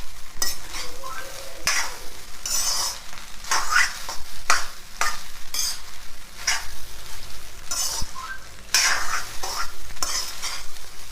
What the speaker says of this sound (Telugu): ఇట్లా అన్నంలో అంతా మంచిగా కలుపుకోవాలి